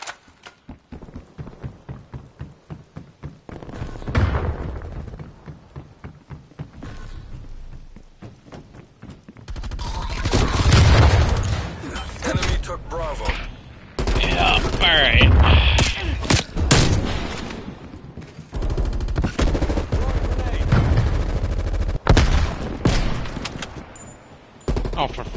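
Automatic gunfire rattles in repeated bursts, starting as faint quick popping and then turning into loud, sustained volleys with short pauses between them, with a voice talking over parts of it.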